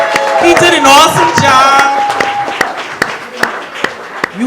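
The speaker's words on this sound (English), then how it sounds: "Let's give Dalton Price, the worshipful master, a big hand clap." Hand claps ring out for the worshipful master Dalton Price at an evening gathering, starting under a speaking voice and continuing as scattered, sharp individual claps that thin out toward the end.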